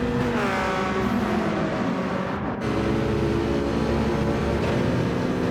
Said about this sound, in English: Jason just getting a little bit too eager on the throttle there, just lighting up the rear tyres